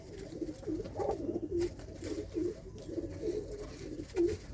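Pigeons kept at home coo softly and repeatedly, a low throaty warble in short bursts, close but faint, with no one speaking.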